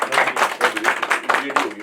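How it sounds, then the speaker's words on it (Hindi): A crowd clapping in a steady wash of applause, loud and close, with no talk over it. "बहुत तालियां बजा देते हैं सब लोग"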